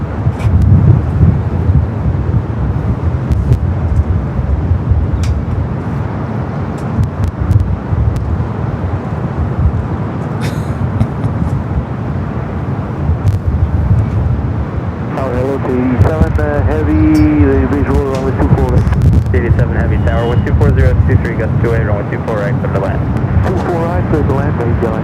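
A Southwest Boeing 737-800 airliner arriving from El Paso at Los Angeles LAX airport makes a continuous, wind-buffeted jet roar that turns into a rising whine toward the end, with voices over it.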